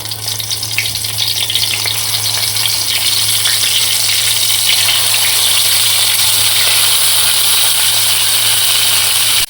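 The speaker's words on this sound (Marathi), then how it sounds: "तेल गरम झालं की एक एक ते वांगी याच्यामध्ये सोडायची अशी." Stuffed eggplants fry in hot oil, giving a loud, close, continuous sizzle with a constant hiss and a low steady hum underneath, unbroken from start to finish.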